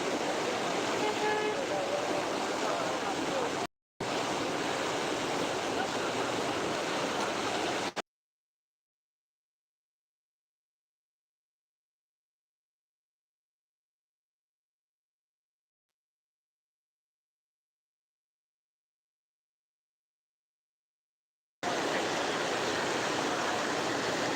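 Steady broadband rushing of a flooded river, loud and continuous, cut by a long stretch of silence before the roar returns.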